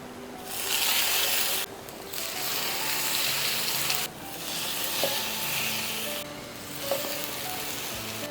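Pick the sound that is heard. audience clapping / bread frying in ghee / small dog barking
bread frying in ghee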